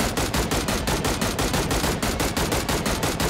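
Rapid automatic gunfire in the mobile shooter Game for Peace, a dense regular burst of shots about a dozen per second, loud and close, sustained for the whole stretch.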